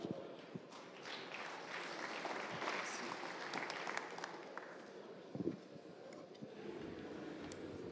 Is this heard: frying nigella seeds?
no